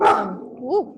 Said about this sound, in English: Sorry folks, that was my dog.